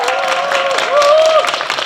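Audience applause and cheering at a student project presentation competition as judges are introduced, a steady wash of clapping with raised voices and a tonal whoop rising over the crowd.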